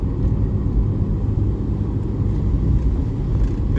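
A Suzuki Alto in third gear at about 15 mph accelerates through snow, its engine a steady, loud low drone that holds without a break throughout.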